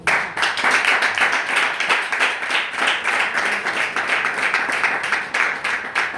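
A church congregation claps in steady rhythmic unison to acclaim the Lord, a loud, dense, continuous applause with a regular beat throughout.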